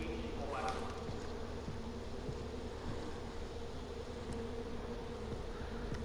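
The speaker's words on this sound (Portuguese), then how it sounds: "Tem caixa de abelha ainda." Bees at a beehive box in the Far Cry 4 video game, a steady, dense droning buzz that continues throughout at moderate level with a faint voice in the background.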